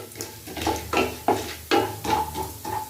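Urad dal and chana dal roasting in hot oil in a pan, with a steady soft sizzle broken by repeated scraping and clinking of a spoon against the pan.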